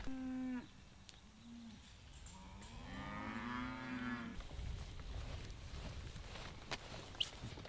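Farm cattle near a shed give several loud, drawn-out moos close by, one after another, before the calls give way to rustling outdoor noise and footsteps.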